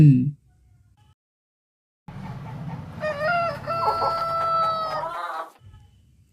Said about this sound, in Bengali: মুরগি মুরগিকে ইংরেজিতে কি বলা হয়? হেন